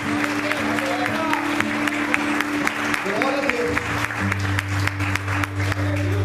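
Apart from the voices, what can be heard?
congregation applauding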